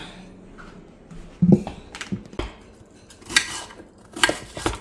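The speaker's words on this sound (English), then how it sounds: "I'm going to get this bowl and mix all my stuff." Ingredients are stirred in a bowl, a utensil scraping and clinking against the sides in irregular, close taps and knocks with quiet gaps between them, and no voices.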